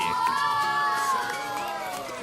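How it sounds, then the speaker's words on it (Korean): Children cheer and shout in an excited crowd at a freestyle football show, a steady, lively burst of high voices close by. "즐거워하는 아이들의 환호 속에 멋지게 마무리"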